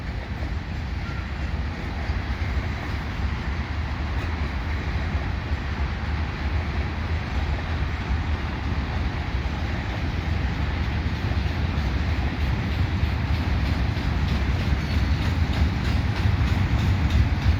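A CN mixed freight train departs the Turcot holding tracks in Montreal, producing a continuous heavy rolling rumble with steady wheel noise that stays loud and close throughout.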